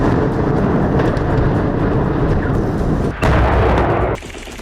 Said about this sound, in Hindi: इजराइल फिलिस्तीनी सेना पर बारूदी बौछार कर रही है